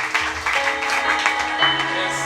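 Church congregation applauding during a French-language sermon, steady mid-level clapping with overlapping voices and background music tones running underneath.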